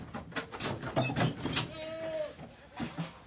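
Boer goats in a pen give a few short bleats in close succession, with one longer wavering call midway, moderately near and fairly quiet amid light rustling.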